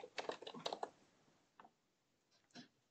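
Computer keyboard typing, a quick burst of close key clicks followed by a few sparse, isolated taps with pauses between them, no voices.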